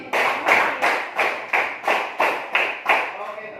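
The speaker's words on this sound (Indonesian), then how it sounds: "Tepuk 3. Tepuk 3 3 kali." A classroom of students claps together in unison, about eight sharp, evenly spaced claps at a steady brisk rhythm, each ringing briefly in the room, with no talking between them.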